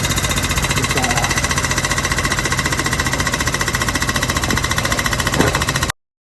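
Air jack under an HGV truck raising it off the floor for a brake check, a loud rapid mechanical pulsing hammer with a constant engine drone, cutting off abruptly.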